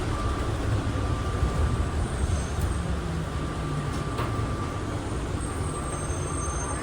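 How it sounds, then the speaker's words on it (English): A steady, loud rumbling hum of an automated airport train in motion, with faint high squeals and whines as it slows to a stop, no voices. "This train is stopping."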